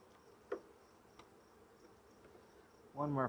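Low, steady honey bee buzzing hums from a hive through the clip, with a couple of brief knocks early on and a louder, closer burst of buzzing at the end.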